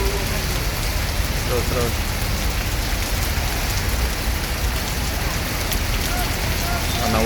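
Rain pours outside the Rosalia Indah bus ticket office in Palembang, a constant loud hiss beneath brief speech and a few scattered background sounds.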